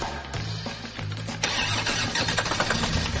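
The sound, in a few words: car engine starting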